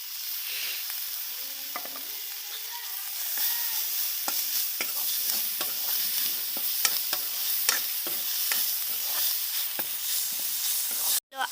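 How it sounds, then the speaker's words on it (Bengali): Chopped green chilli with ginger and garlic paste fries for egg curry, a soft steady sizzle broken by frequent spatula scrapes and taps, no talk. "এখন দিয়ে দিল আদা রসুন বাটা"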